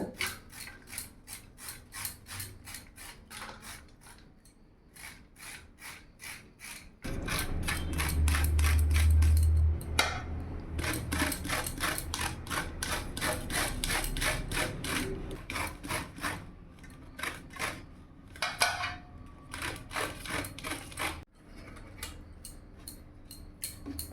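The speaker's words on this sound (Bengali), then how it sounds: "একটা গ্রেটারের সাহায্যে আমি এইভাবে ফুলকপিগুলো গ্রেট করে নেব।" Cauliflower grated by hand on a grater, rapid rhythmic rasping strokes close up, a steady scraping pattern that briefly pauses before resuming at a fuller, louder level for the rest of the stretch.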